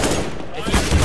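A quick, loud burst of gunfire in the video game CS:GO fills a short moment as a dense, crackling volley.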